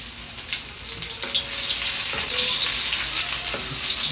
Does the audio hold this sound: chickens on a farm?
no